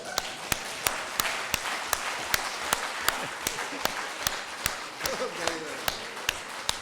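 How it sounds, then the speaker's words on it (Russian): Doctors at a medical forum clap in steady, evenly spaced unison beats, a rhythmic applause that carries on with a voice speaking underneath. "Хлопайте в ладоши, врачи Европы и Азии."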